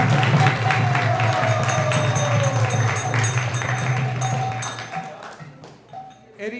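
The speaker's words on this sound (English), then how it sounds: "let's give a big round of applause and thank him" Audience applause at an ISKCON temple gathering in Silicon Valley after a kirtan and Krishna Katha talk. Loud, sustained clapping from a room of people continues for several seconds, then thins out into a few scattered claps toward the end.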